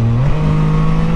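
Can-Am Spyder F3-S Special Series three-wheeler accelerating hard, a loud close engine drone with a steady tone that shifts up mid-clip as it pulls.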